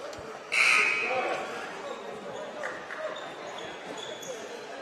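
At a junior varsity high school basketball game, a loud buzzer blares once in the gym and fades after under a second. Crowd murmur and court noise continue beneath it, with people talking.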